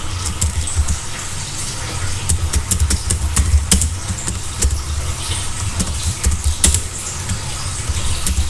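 Steady typing on a computer keyboard, a continuous run of close, crisp key clicks at an uneven pace over a low background rumble, with no talking.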